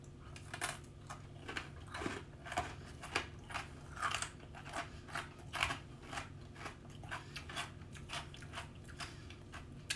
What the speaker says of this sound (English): Biscuit's nice and crunchy.